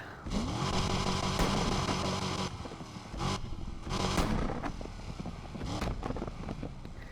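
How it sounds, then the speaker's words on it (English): A custom engine exhaust built for a modified Mercedes-Maybach in a video game, a loud, aggressive drone that revs up and down in several bursts over about seven seconds, with no talking. "here's the exhaust sound that I've made"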